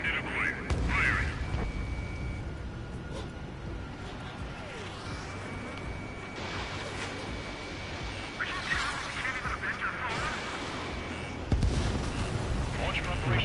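Rapid bursts of cannon-like gunfire in the Ace Combat 7 flight game come in several loud volleys over a steady engine roar.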